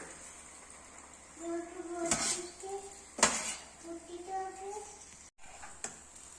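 Macaroni being stirred in a pan with a utensil, producing broad scraping clatters and metal clinks against the pan, close and intermittent, with a voice and faint talk in the background.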